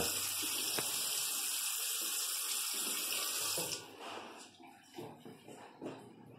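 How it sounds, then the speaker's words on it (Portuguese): Water runs steadily from the faucet of a porcelain-tile bathroom washbasin, a loud continuous rush that stops partway through, followed by quieter drips and handling noises. "Deixa eu mostrar aqui, pelo menos a torneira ligada."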